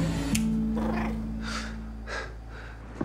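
A cat makes a few short breathy vocal sounds, snorts or purring-like huffs, close by over a steady low hum, with no speech.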